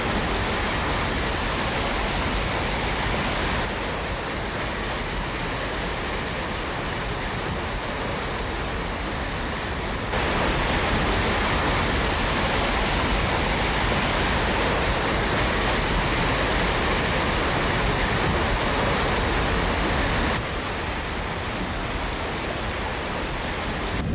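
Flood water rushing hard through Yosemite around the lodge and its pathways, a loud, steady broadband roar with no pauses, its level shifting slightly in a few sections.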